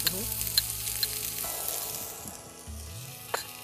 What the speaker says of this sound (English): And nicely, it has to get sauteed.